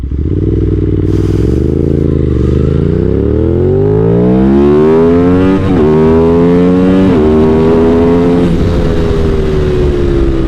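An Aprilia RS660 Factory motorcycle engine revs hard and loud, its pitch climbing steadily through several gear changes with brief dips between shifts, close and continuous with no talk.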